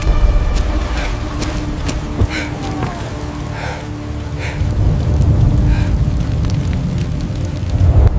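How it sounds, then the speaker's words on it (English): Heavy rain pours steadily onto a surface in a prehistoric storm scene, with a dense, constant hiss, scattered crackles and low rumbling swells that suggest distant thunder. "the rain lashing against his skin"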